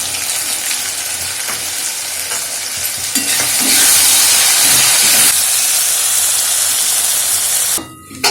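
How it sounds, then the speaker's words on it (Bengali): Ginger, garlic and ground chili, turmeric, coriander and cumin sizzling and hissing in a pan for chicken curry, loud continuous frying with stirring scrapes, intensifying midway, no talk. "সব মশলা খুব ভালোভাবে কষিয়ে নিয়েছি।"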